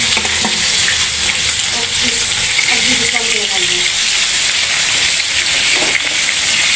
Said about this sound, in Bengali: দুই চুলায় ভাজতেছে আপনার আপু মাছ